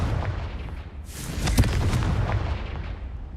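A Confringo spell explosion in the video game Hogwarts Legacy bursts with a loud, close boom about a second in, followed by a rumbling, crackling tail that stays heavy and dense to the end.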